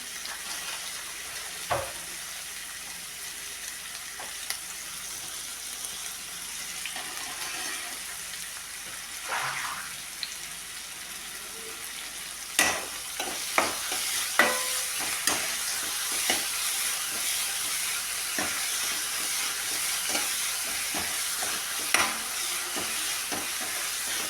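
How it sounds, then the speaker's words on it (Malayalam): Onions sauté with salt in a pan for a fish curry without coconut, giving a steady soft sizzle broken by scattered scraping and tapping stir strokes that grow busier toward the end. "സവാളയും ഇതെല്ലാം ഒന്ന് പെട്ടെന്ന് മൂത്ത് കിട്ടാനായിട്ട് കുറച്ച് ഉപ്പോട് നമുക്ക് ചേർത്ത് കൊടുക്കാം"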